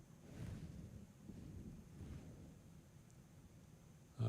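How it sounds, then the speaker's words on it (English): Wind picks up over Amarillo in the Texas Panhandle as a late-night storm moves in, a faint, low, rumbling rush that swells in soft gusts and stays steady, with no voices. "Sounds like the wind picking up a little bit here in Amarillo"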